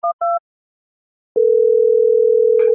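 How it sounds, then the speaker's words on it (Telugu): Two short dual-tone beeps, like keypad presses, are followed by a pause and then a steady, loud, continuous telephone dial tone that lasts to the end, with a brief burst of other noise near the close. "అర్జెంట్ గా బాలేబాబు మళ్ళీ ఫోన్ చేయాలి."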